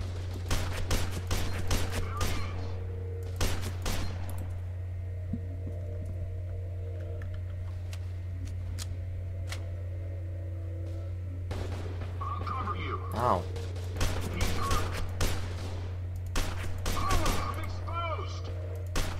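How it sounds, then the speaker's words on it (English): Bursts of gunfire from the first-person shooter game F.E.A.R. 2 come in rapid clusters over a steady low hum, loud and close, with someone speaking and laughing between the volleys and keyboard clicks in between. "They keep on shooting me!"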